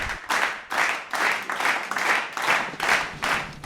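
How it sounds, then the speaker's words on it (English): A group of people claps hands together in unison, making about eight distinct, evenly spaced bursts in a steady rhythm at moderate volume. "Everybody clap your hands."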